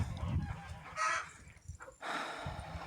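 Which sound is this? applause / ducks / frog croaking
ducks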